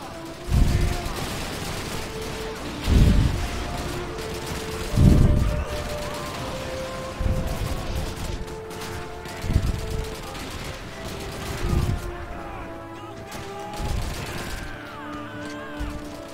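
Bursts of Call of Duty 2 gunfire pop repeatedly at a steady pace, with heavy low thumps roughly every two seconds under a droning mechanical background.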